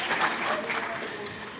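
Audience applause at a state sports and youth affairs event, a dense steady patter of clapping lasting the whole short stretch at moderate loudness, with no speech over it.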